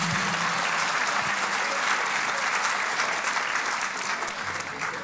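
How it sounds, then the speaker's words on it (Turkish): Warm, sustained applause from a concert audience at a Turkish classical music choir performance of Yeşilçam film songs, a full and even crowd clapping that holds steady and eases slightly toward the end. "alkışlar sizlere gelsin"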